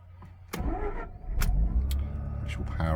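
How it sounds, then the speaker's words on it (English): A 2010 Mazda RX8 R3 cranks briefly and fires up, its rotary engine catching and settling into a low, steady idle close by, with a few clicks and a short voice heard over it. "So we'll start the car,"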